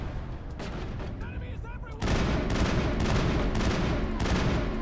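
Mass Effect combat: scattered gunshots, then a sudden loud blast at about two seconds followed by sustained heavy gunfire and rumbling explosions, with a brief whooshing sound effect just before the blast.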